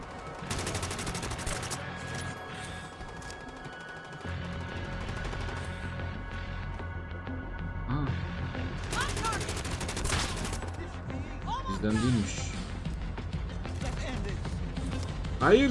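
Rapid gunfire rattles through a firefight in The Division mobile shooter game, sustained bursts and scattered shots with metallic clatter, while someone talks excitedly over the shooting.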